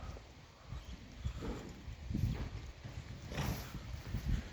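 Young horses from Kazakhstan at a livestock market give off soft, irregular hoof clops and shuffling movement, fairly faint and close, with no talk.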